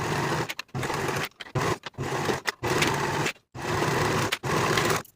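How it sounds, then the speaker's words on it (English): Sewing machine stitching a knit cardigan's side seam up to the sleeve with a 3/8 inch seam allowance, a fast, even mechanical hum broken by several short stops and restarts, close and moderately quiet. "we can sew from the bottom of the side seam to the bottom of the sleeve in one continuous stitch with a 3/8 inch seam"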